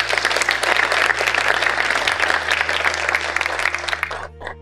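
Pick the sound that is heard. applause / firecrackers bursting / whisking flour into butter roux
applause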